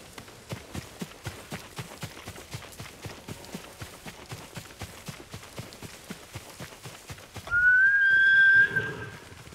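A horse in Ghost of Tsushima trots with a steady clip-clop of hooves, then lets out a loud, drawn-out neigh near the end.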